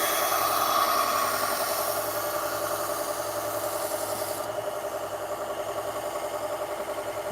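A kitchen knife scrapes back and forth across a sharpening stone in steady, even strokes, close and moderately loud, with no talking.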